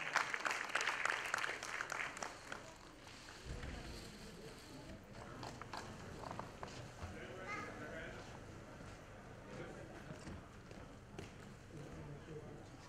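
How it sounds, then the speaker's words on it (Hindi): Applause from an audience at a live Sai Sandhya devotional program in the Gadkari Rangayatan hall in Mumbai (Thane), greeting a guest during a welcome ceremony. The clapping is densest at the start, then becomes a steady mid-level patter with background voices. "एक बार जोरदार तालियां दोस्तों।"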